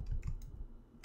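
A few quick clicks of keys being typed on a computer keyboard, close and fairly quiet, in an irregular burst.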